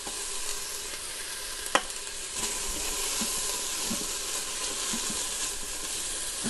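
Garlic sizzles in an Instant Pot, a steady close frying hiss with occasional scraping stirs and one sharp clink of a utensil against the pot, no one talking.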